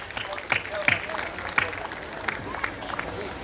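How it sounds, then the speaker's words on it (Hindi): A poetry recital audience claps to welcome a poet on stage, with scattered, uneven claps and crowd noise rising and falling, some sharper hand strikes standing out near the start. "आप जोरदार तालियां बजाकर स्वागत करें मुमताज़ नसीम"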